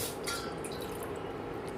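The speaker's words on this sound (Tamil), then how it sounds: "அதுக்கு ஒரு பாத்திரம் வச்சு அதில் ஒரு கிளாஸ் தண்ணி" A glass of water poured into a cooking pot makes a brief, steady splashing trickle close by, with no talking.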